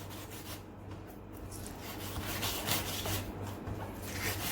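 A knife scrapes and cleans the skin of a shark fish, giving a steady, close rasping scrape that runs continuously with slight rises in intensity and no talk.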